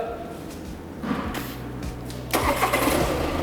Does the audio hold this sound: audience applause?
no